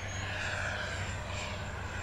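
An E-flite SU-30 twin 70mm electric ducted-fan RC jet whines steadily in flight overhead, its smooth, continuous fan tone holding a high pitch over a low rumble without pause.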